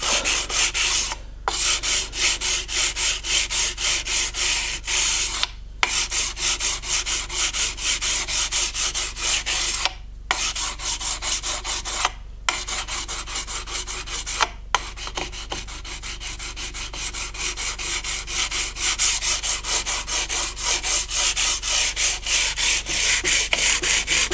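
Guitar frets being leveled and dressed by rubbing, a steady coarse abrasive scrape that runs continuously for over twenty seconds and breaks off for a few brief pauses between strokes.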